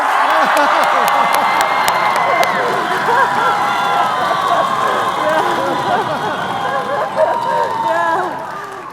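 Incoming Princeton students at an assembly break into loud, sustained applause and cheering, a dense wash of clapping that fades slightly toward the end, with shouts and whoops mixed in.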